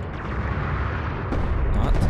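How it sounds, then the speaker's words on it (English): Heavy railgun fire from enemy forces in the real-time strategy game Deserts of Kharak: a rumbling, booming barrage of impacts and explosions with a sharp crack near the end, loud and continuous with no voices. "Enemy railgun firing on friendly."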